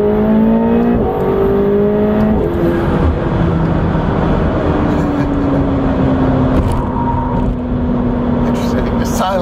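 A McLaren 720S supercar launches hard, its engine roaring loud and close in a steady, sustained surge with rising and shifting tones as it accelerates, with voices briefly audible over it.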